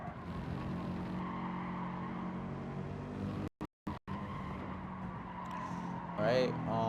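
Mercedes-AMG GT3 race car in Gran Turismo 7 gameplay, a continuous engine roar that changes pitch with gear shifts and briefly cuts out twice, with a tire squeal near the end.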